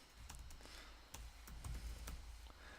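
Fast, irregular clicks of keys being typed on a computer keyboard, heard up close and alone with no talking.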